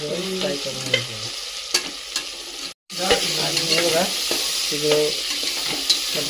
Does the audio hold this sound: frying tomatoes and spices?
yes